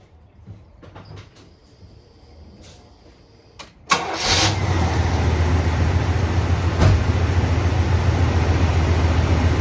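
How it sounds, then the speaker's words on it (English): A 1972 Chevrolet Monte Carlo with a stock 350 V8 and two-barrel carburetor cold starts after winter storage: quiet clicks and thumps, a brief crank, then the engine catches and settles into a loud, steady idle, close by. "I'll just start the car up here so you can hear it idle a little bit."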